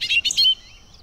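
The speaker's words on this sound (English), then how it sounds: "That sounds like one of my favorite birds, the bobolink." A bobolink, a grassland songbird, gives a short bubbling burst of bright, rapid warbled notes, near and clear, fading out after about half a second with no talking over it.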